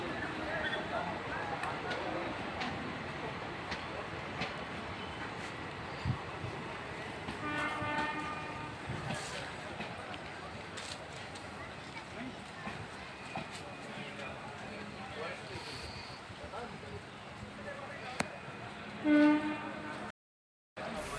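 A Yesvantpur–Lucknow passenger train arrives at a station during a railway safety inspection of the Utretia–TPNR doubling line, its horn sounding in short bursts over steady rolling rumble, with people talking throughout.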